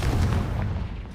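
A Confringo spell blast in Hogwarts Legacy, a short heavy booming burst, loud and close, fading quickly with no talk.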